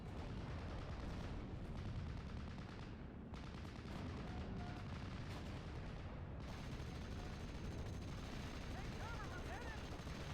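Gunfire against flak guns in the Steel Division video game, a dense continuous barrage of rapid shots and blasts, faint and distant under a busy battlefield wash.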